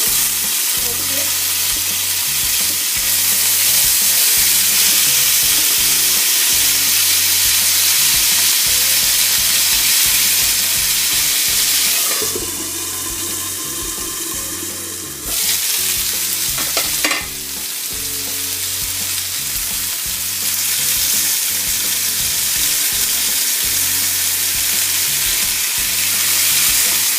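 Chicken pieces frying for teriyaki in a pan, a dense steady sizzle with occasional stirring scrapes and a brief louder hiss midway, continuous and close with no talk.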